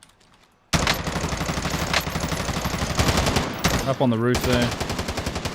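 Rapid automatic gunfire in a video game, dense bursts that start abruptly and keep rattling loudly, with a brief speaking voice partway through.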